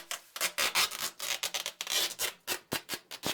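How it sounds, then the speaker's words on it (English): Duct tape pulled and pressed onto a ductwork joint, a run of close, dry rubbing and rasping strokes in short bursts with brief gaps, fairly quiet and with no voices. "So, we get the tape on that joint."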